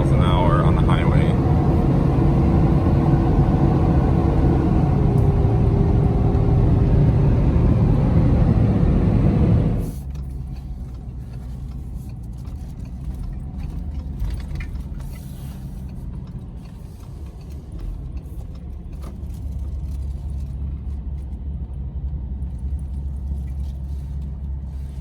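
A Ford F450 pickup with a big 7.3 V8 engine running on CNG, cruising at highway speed: a steady, loud low rumble and road roar heard from inside the cab, noticeably quieter and duller after a sudden shift partway through.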